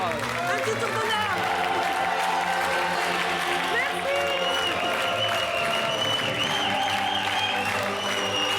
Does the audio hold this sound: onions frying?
no